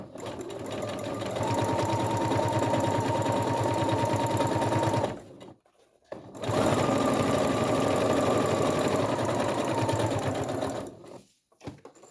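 A sewing machine runs steady stitches through fabric for a baby stroller blanket hem, near and loud, with two short pauses, one around the middle and one near the end.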